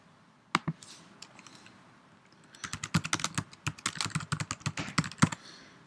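Notes being typed on a computer keyboard in a quiet room: a couple of isolated key presses, then a steady run of quick, close clicking keystrokes with uneven rhythm.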